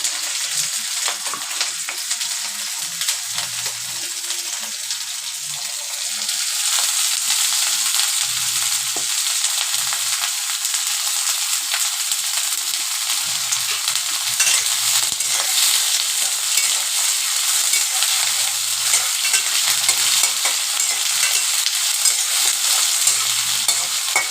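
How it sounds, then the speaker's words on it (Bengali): Potatoes and cumin seeds fry in oil in a kadai, giving a loud, continuous sizzle with repeated scraping stirs throughout and no speech. "এই জিরে দিয়ে দিলাম। এবার আমি এগুলো ভেজে নেব। আলুটা দিয়ে দিলাম।"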